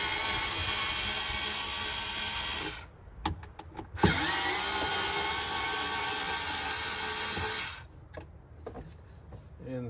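Power screwdriver spinning out the speaker screws in a 2021 Ford Bronco, with a loud steady whine that drops out briefly twice for a few clicks before starting again.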